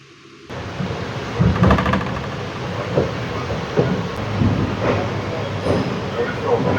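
A passenger train departs Madurai railway station and rolls along the rails, a rumbling run with rhythmic clacks rising and settling, heard from on board with voices now and then.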